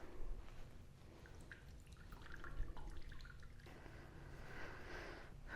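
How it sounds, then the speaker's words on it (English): Melted beeswax drips and trickles through a cloth as it is pulled down, a soft, close, irregular patter of liquid with faint squishing, quiet and alone. "So I'm kind of pulling this down and trying to let it drip out a little bit faster."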